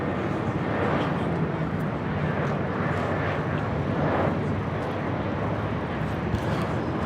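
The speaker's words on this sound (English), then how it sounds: "This is Allegiant Air Flight 276 coming in from Bellingham on the A319." An Allegiant Air Airbus A319 arrives at LAX, a loud continuous jet engine roar close by that swells slightly midway, with no talk.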